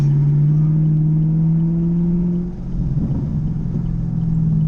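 Car engine, in a comparison against a Camaro SS and Corvette, holds a steady loud drone, then its tone shifts midway as the revs change, with rough crackling texture from the exhaust; no voices.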